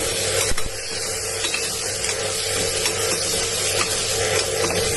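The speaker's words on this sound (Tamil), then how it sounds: "இஞ்சி பூண்டு விழுதும் வெங்காயத்துக்கூட சேர்த்து வதக்கிக்கோங்க நல்லா" Sliced onions with ginger garlic paste sauté in a pan, with a steady scraping stir and a soft sizzle close up, filling the whole stretch without any talking.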